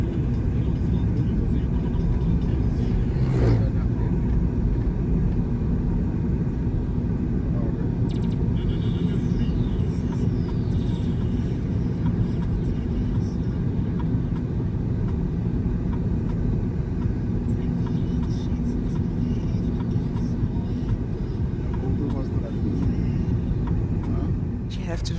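A vehicle rolls through the streets of Paramaribo, Suriname, giving a continuous low road rumble and engine noise from inside, with indistinct voices under it.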